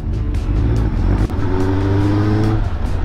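A Honda CB750F motorcycle engine runs loud and close, its rough, uneven idle punctuated by periodic pops and a brief dip partway through.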